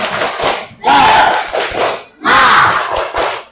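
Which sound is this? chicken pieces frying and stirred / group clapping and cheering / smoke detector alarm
group clapping and cheering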